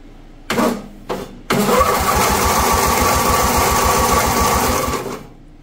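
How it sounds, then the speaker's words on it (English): Old Lawn Chief tractor with snow blower, engine cranked over after a long time abandoned: two short starter bursts, then a steady rapid chugging crank for several seconds that fades out, close and loud. "I'm gonna go ahead, turn it over and see if it'll start."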